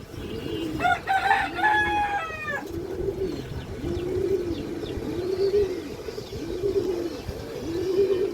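An old-line pigeon coos in a steady, low repeated rhythm, close by, while a short rising bird call sounds briefly near the start.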